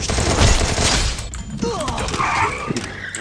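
Gunfire in the battle-royale game Free Fire: a dense flurry of close shots in the first second and a half, then scattered impacts and sharp effects, with a voice talking over the action.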